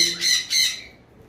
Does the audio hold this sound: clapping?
no